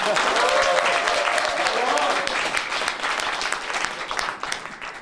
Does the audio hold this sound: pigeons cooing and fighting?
no